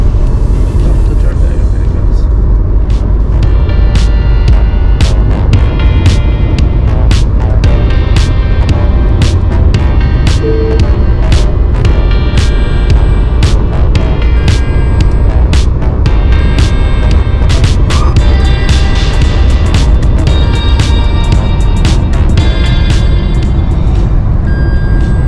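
A Tata Nexon cruising at about 130 km/h, with steady loud road and engine roar throughout and a constant broadband rumble, plus frequent brief clicks and ticks over the drone.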